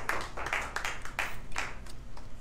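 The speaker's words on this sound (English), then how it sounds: "give God a hand clap of praise, thanksgiving for all his promises today" Worshippers at a church service clap their hands in praise, a group of sharp, rhythmic claps roughly every quarter second, fairly close and distinct, with no voices over them.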